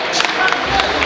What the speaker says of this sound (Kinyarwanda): Abakoze iki gikorwa bose amashyi menshi cyane.